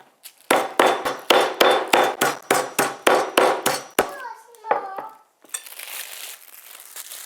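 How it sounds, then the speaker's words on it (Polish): Pork cutlets are pounded with a meat mallet, about a dozen sharp, evenly spaced thuds close up, followed by softer handling sounds and crinkling. "Mięso rozbijam z obydwu stron."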